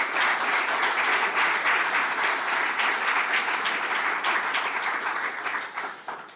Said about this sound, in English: Big round of applause for all of them, please.